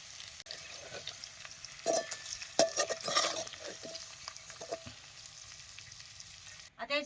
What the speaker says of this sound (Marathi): आता हे चेचलेलं लसूण त्यात घालतो